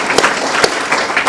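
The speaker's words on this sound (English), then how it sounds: "Another round of applause for her." Audience applause at a check presentation ceremony, steady dense clapping filling the room with a few sharper claps standing out, fairly loud and close.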